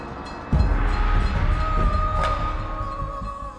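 A train pulls into the station at St. Moritz in the Swiss Alps, with a steady rumble and long, high squealing tones from the wheels or brakes, close and fairly loud, with no voices.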